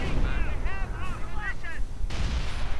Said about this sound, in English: And we are seeing artillery fire, but against what?